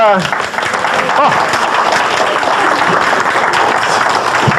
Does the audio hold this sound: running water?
no